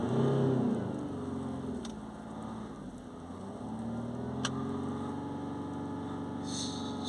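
A Range Rover 3.0 engine accelerating while the car sits stationary, a steady low rumbling drone that swells slightly, heard alone without speech.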